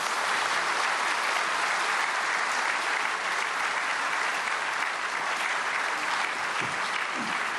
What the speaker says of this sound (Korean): 나오실 때 큰 박수로 환영에 맞이하시겠습니다